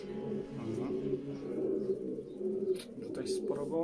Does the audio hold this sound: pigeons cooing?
yes